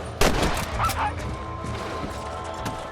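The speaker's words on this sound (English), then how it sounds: "Good shooting, Mr. Marston" Gunshots in the Red Dead Redemption video game during a fight with coyotes at a chicken coop, several sharp cracks including a loud opening shot, mixed with animal yelps and game noise.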